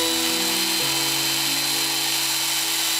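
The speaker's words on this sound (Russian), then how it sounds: "хочу показать, как идет работа с тонкими сверлами" A steady, high-pitched drill whine from an ALLSOME BG-5167 drill press boring with thin bits, with a shift in pitch early on, then running evenly and close by with no talking.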